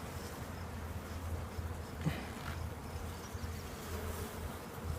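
Honey bees hum steadily around an open hive at an apiary, a close, continuous drone with individual insects buzzing past, no speech.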